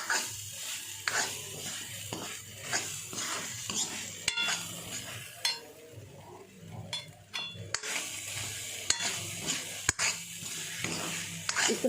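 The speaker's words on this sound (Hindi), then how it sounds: "और सभी मसालों को हम भट के साथ ही अच्छे से मिक्स कर लेंगे। इसे भी हम 2-3 मिनट तक इसी तरह पकाएंगे।" Bhatt, black soybeans, being stirred with spices in a pan while they cook: intermittent spatula scrapes and clinks over a soft sizzle, with a few sharp knocks against the pan.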